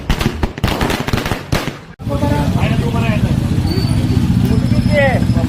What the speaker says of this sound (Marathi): विविध ठिकाणी फटाक्याची आतिषबाजी केली